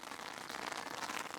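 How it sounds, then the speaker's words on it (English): Rain falling outdoors during a landscape photography outing, heard as a steady, dense broadband hiss of drops without pause, fairly close and even in level, with no voices. "whilst I shelter from the rain"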